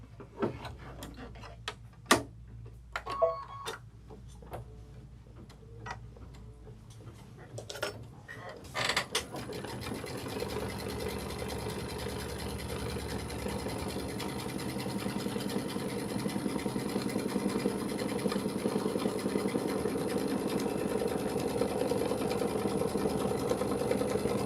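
A Kimberbell embroidery machine stitches down fabric, starting with a few scattered clicks and taps before settling into a steady, close mechanical whir that runs continuously and grows slightly louder to the end.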